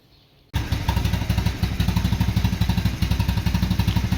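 A Yerfdog Scout compact utility vehicle's small engine chugs steadily and loudly after starting abruptly from near silence, its low pulsing beat repeating evenly throughout.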